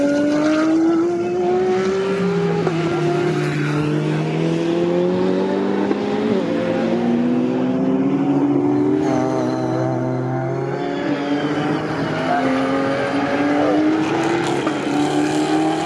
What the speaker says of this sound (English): the KTM is so strong in the double right to Gilbert